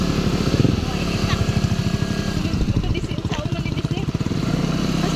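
Motorcycle engine running close by on a road, a steady pulsing putter with slight revving throughout.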